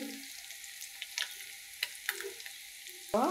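Prawns fry in a partly covered pan for a banana-stem dish, giving a steady, moderate sizzle broken by scattered crackles and a few soft utensil clicks, with a louder knock at the end.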